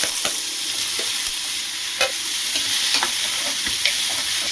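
Steady sizzling of cucumber pieces frying in hot oil with green chillies, with occasional sharp clicks and scrapes from stirring, close and continuous.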